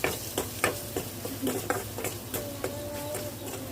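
Salted curry of red cabbage stems and lentils being stirred in a pan: a series of sharp spoon taps and scrapes against the metal at an irregular rhythm over a faint, steady sizzle, close and fairly quiet.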